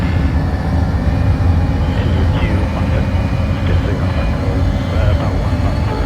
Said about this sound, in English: we'll listen to that Pratt & Whitney F-135 as it runs up